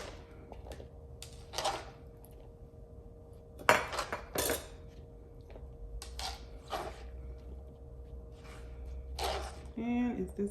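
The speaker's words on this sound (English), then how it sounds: "of course I take them and put them into a bowl" Diced tomatoes dropped into a bowl in a home kitchen, heard as scattered soft clinks and knocks of a knife or utensil against dishware over quiet room noise, with a few louder clatters.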